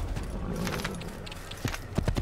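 Hooves clip-clop from a horse in the Assassin's Creed video game, a soft trot that grows into sharper, closer hoofbeats toward the end over continuous background game noise.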